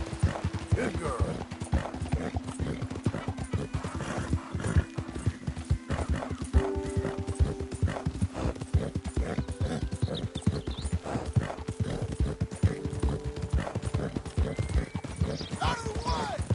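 Steady clip-clop of a horse's hooves at a quick gallop in Red Dead Redemption 2, close and continuous, with occasional whinnies and background game sounds.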